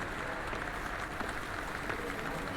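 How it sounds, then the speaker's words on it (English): In the horror video game Detention, a crowd of people claps in a steady, moderately faint wash of applause with a low rumbling undertone, continuous throughout. "And people are clapping that."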